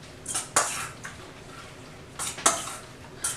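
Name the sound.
stirring egg foo young egg mixture in a bowl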